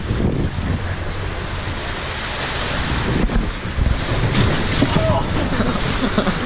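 Broadband rushing water and splashing surge throughout, with wind buffeting the microphone; a loud wave splash swells near the middle, close and noisy, heard while riding the Rio Grande rapids ride at Fort Fun Abenteuerland.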